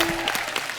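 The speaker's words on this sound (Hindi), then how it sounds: "भूत पुलिस की कास्ट के लिए जोरदार तालियां हो जाए यार।" A studio audience claps for the Bhoot Police cast, a short burst of applause heard briefly and fairly close.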